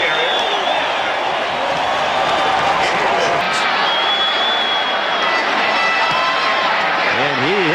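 Crowd at a 1993 college football game roaring in a stadium, a constant distant wall of cheering that persists throughout, with a commentator talking over it.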